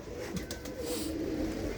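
A pigeon coos nearby in a loft, a low soft rolling call repeated through the brief moment with faint background noise.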